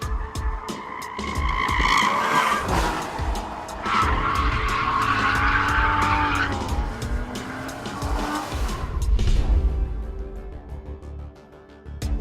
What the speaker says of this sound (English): Like all modern Porsches with the PDK, launching the Cayman S is really easy.